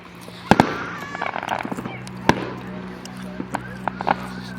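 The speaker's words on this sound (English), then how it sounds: "that blurry thing behind the fireworks is the moon" Fireworks bursting over a minor-league ballpark at night, with several sharp bangs and crackles at irregular intervals, one loud near blast standing out among smaller pops, under a steady low background hum.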